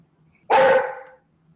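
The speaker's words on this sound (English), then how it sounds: "Sorry about the dogs. They are hyped up." A single sharp dog bark rings out close by, brief and loud against a quiet background.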